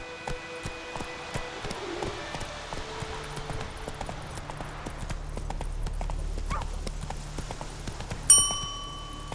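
Horse hooves clip-clop in the video game The Witcher 3, a steady walking rhythm of moderate loudness over ambient game sound, with a sharp louder hit near the end.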